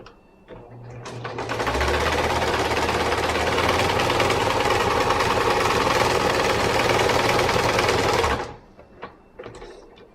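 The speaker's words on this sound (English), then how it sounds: "If you prefer to hand baste, that's totally fine. I tend to just do it on the machine." A sewing machine machine-bastes fabric for a Pikachu plush body, starting up and running at a fast, steady whirring rattle for about seven seconds, close and loud, then stopping, followed by faint handling clicks.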